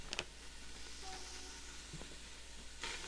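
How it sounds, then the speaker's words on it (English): A soft, steady sizzle of onions frying in an Instant Pot, with a few light clicks and scrapes over the hiss. "you hear that little sizzling sound"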